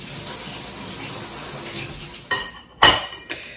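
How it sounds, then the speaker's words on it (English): Soaked nuts are strained and rinsed with clean water at a kitchen sink, with a soft running-water wash followed by two sharp clattering knocks of a strainer or bowl. "And I'm just going to strain them and rinse them with clean water."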